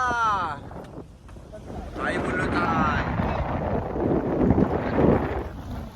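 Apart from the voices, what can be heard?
strong wind at sea during a storm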